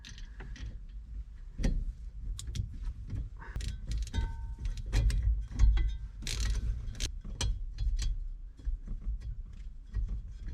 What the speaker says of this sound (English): this is my little steering wheel puller contraption that I designed and patented a while back